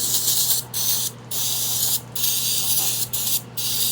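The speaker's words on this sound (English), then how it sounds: "Since we're in there, give her a rinse out with carb cleaner." Carb cleaner sprays into a Dolmar PS-510 chainsaw in short hissing bursts, with about five close, loud sprays separated by brief pauses.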